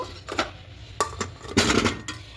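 Small new potatoes being dropped into a metal pressure cooker pot, several close, hollow clinks and knocks at uneven intervals.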